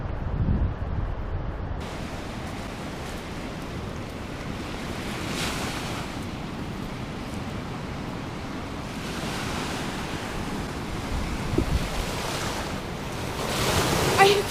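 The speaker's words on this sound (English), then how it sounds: "Just look at how fast the water is coming out of there right now." Steady, loud roar of a fast river after heavy rain at Livermore Falls in Campton, New Hampshire, fills the whole clip, a continuous broadband wash with wind buffeting the microphone and no voices.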